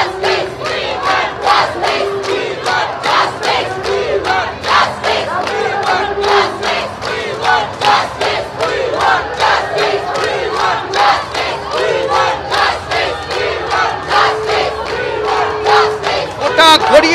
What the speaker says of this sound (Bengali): ঠিক আরেকটু উল্টো দিকে গেলে পরে আমরা দেখব একই দাবি, একই স্লোগান, কিন্তু তাদের স্লোগান কি বলছেন তারা